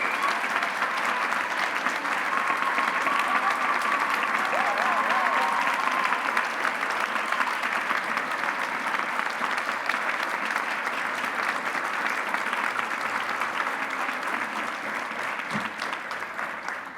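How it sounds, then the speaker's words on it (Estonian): Long, steady roar of crowd applause at a fashion show for the designers, dense clapping holding at a constant level throughout with faint cheers over it. "Teeme hästi suure aplausi!"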